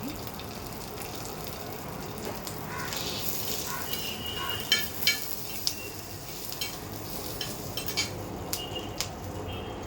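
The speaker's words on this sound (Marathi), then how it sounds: "आपल्याला हे मिरच्या आणि लसूण थोडेसे फ्राय करून घ्यायचे" A steady low sizzle of green chilies, garlic and cumin frying in a pan, with occasional sharp clinks of a utensil against metal.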